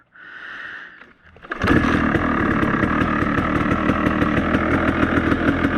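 KTM 300 two-stroke motorcycle kick-started on the first kick: a short mechanical rustle, then the engine catches and settles into a loud, rapid, crackling idle with a fast regular pulse.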